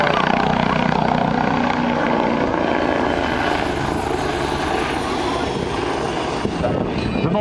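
A modified BO-105 helicopter flies aerobatic maneuvers at an air show, its loud, steady rotor chop and engine whine filling the whole stretch, close and continuous.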